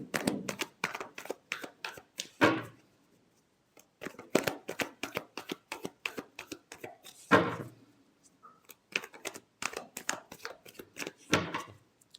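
Tarot cards shuffled by hand in quick riffling bursts, crisp close flutters separated by brief pauses, several rounds in a row with no talk.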